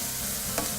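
Onions sauté in a pan, giving a soft, steady sizzle with a brief stirring scrape. The sound is quiet and has no talk over it.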